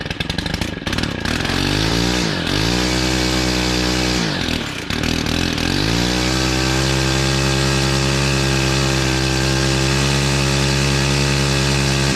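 A Stihl FS131 string trimmer engine runs close and loud, revving twice early on before settling into a steady, unbroken idle.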